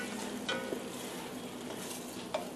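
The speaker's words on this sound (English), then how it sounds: "Keep stirring." A spoon works through a thick wild rice soup with mushrooms in a pot, giving a steady soft scraping and bubbling texture with a few light clinks, close and fairly quiet.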